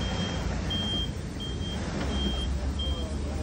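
A 2018 electric stand-on forklift, 1.5 ton, model FB15RL-15, stacking goods onto warehouse shelves, gives regular repeating warning beeps over a steady motor hum and rumble, close and loud.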